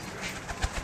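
Pigeon cooing among a breeder's birds in Lahore: a faint, low throaty coo heard briefly against a noisy outdoor background, no talk.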